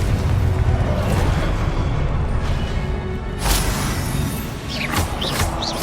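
The Confringo blasting spell in Hogwarts Legacy goes off in a loud, rumbling explosion with a bright burst partway through, followed by whooshing magical streaks over a heavy low roar.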